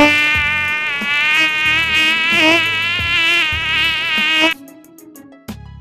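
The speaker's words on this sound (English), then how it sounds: "Mosquito." A mosquito's loud, steady, high-pitched whine buzzes continuously for several seconds, then cuts off abruptly, leaving a quieter background.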